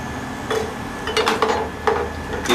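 Sanitized glass jars are set into a pot of boiling water, giving several sharp glassy clinks and knocks against metal at irregular moments over a low bubbling background.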